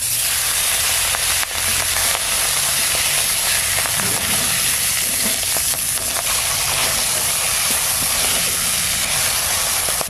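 A hilsa fish head fries in hot oil in a wok, giving a loud, continuous, close sizzle and hiss with small crackles throughout.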